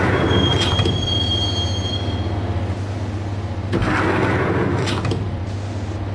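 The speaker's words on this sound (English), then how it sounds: "the train doors had already shut behind me, and I was in for the ride" Subway train from the Max Payne video game riding along the rails, a steady loud rumble with sharp metallic wheel squeals near the start and again around the middle, no voices.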